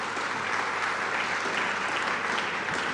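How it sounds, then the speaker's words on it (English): Sustained crowd applause at a BMW X3 launch at the Rosslyn plant, many hands clapping in a steady, full wash with no voices over it. "Now, this is to be applauded."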